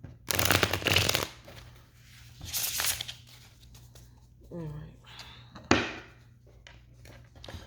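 Tarot cards are shuffled in several brisk riffling bursts, close up, with a brief voice between them.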